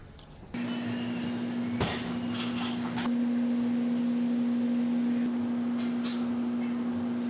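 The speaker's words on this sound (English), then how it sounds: "On the train now." Steady rumble of a moving train heard from inside a carriage, with a constant droning tone, a brief clunk and a few soft knocks over the continuous background.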